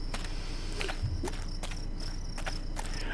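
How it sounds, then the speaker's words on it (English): Footsteps crunching through grass and over rough terrain in the survival game Vortex The Gateway, a regular series of soft, fairly quiet steps over a constant hum of ambient insects. "I like the sound it makes when you walk through the grass and on the terrain"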